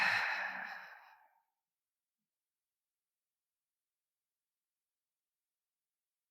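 A single deep, breathy exhale, like a sigh during a meditation session, close and soft, lasting about a second before fading into silence.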